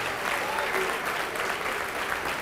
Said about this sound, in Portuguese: Então vem e vamos aplaudir mais ao nome de Jesus.